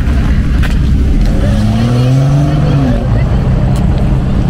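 BMW 240i cars racing on a track, engine drone rising and falling in pitch at a distance, with a steady rumble and voices talking over it.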